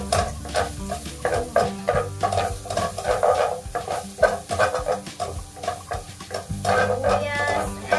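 Chopped onions hit hot oil in a pan and sizzle steadily while being stirred with repeated scraping strokes, close and continuous, with no talking.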